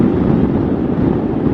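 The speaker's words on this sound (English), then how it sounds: "We have got a lot of wind today." Loud wind buffeting a helmet microphone while riding a Triumph Tiger 900 Rally Pro motorcycle, a steady, dense low roar with constant rumble throughout and no voices.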